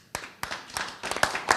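A few audience members at an improv show clap in scattered, uneven bursts, five or six claps over a second and a half. The clapping is close and fairly quiet, with no voices.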